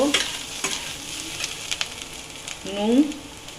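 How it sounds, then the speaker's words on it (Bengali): Sliced ivy gourd fries in a pan with a steady soft sizzle, broken by scraping stirs of a spatula and a brief voice near the start and again near the end. "আরেকটু ঢেকে দিলাম, আরেকটু ভাজা হোক"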